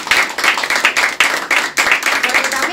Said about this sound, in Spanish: pido un aplauso especial para mis compañeros de Zapala